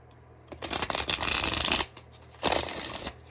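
Stiff tarot cards shuffled up close in two quick bursts of riffling, crisp and papery, with a short pause between them and no talk.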